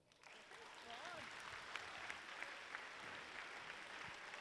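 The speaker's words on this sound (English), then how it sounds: "we'll have to just keep the round of applause going very slowly" Steady applause from an auditorium audience at a FIRST LEGO League awards ceremony, continuous and fairly distant, with a voice briefly audible over the clapping.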